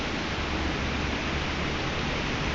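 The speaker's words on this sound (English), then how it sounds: "look at all the trees shaking around. Extremely windy." Strong hurricane wind during Hurricane Sandy roars steadily through backyard trees, a dense, unbroken broadband rush that stays loud and even throughout with no voices.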